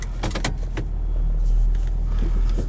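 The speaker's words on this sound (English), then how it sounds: "diesels make the coolest little noises" Cummins diesel engine in a 2017 Nissan Titan XD pickup, heard from inside the cab as a steady low rumble with a few quick mechanical clicks and ticks near the start.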